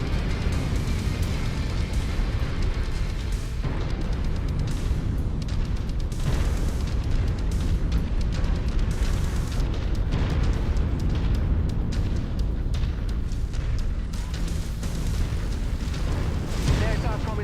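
Artillery explosions in MechWarrior 5: Mercenaries, a dense continuous roar of booms and rumbling blasts that stays loud throughout, with radio voices speaking over the barrage.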